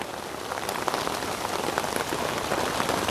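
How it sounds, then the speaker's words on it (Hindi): Steady rain falls outdoors on a path, a dense continuous patter with scattered distinct drops hitting surfaces close by, no voices. "बारिश हो रही है"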